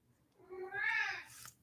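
A single cat meow, rising and falling over about a second, close and fairly soft in an otherwise quiet room.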